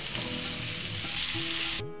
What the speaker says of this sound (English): It's been cooking for about 20 minutes, and as you can see the mince has turned a brown colour